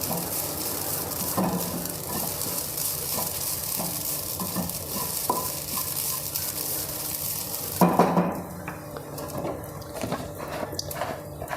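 Grated coconut roasting in a pan crackles and hisses steadily, broken by scraping stir strokes and a louder clatter of the spatula against the pan near the end.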